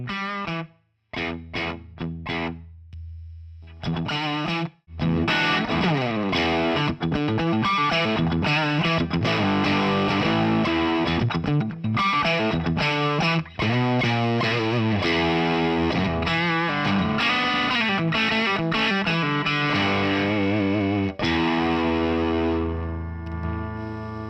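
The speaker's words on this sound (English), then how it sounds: "the fuzz that I'm using here" Electric guitar through a fuzz distortion pedal, sputtering staccato notes at first, then thick, saturated sustained chords and riffs played loud and alone with a few abrupt stops.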